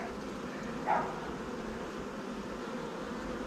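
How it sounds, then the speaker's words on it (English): A hive of honey bees during varroa mite treatment, their flight making a soft, steady buzzing hum in the air around the hive, with a brief louder swell near the start. "That's bees in the air."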